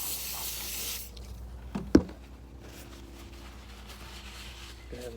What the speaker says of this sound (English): grab whatever you're cleaning it with and spray inside there